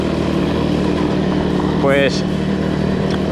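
A Hanway G15 motorcycle engine drones steadily and loud while being ridden, with a brief rising whine partway through, as someone speaks over it.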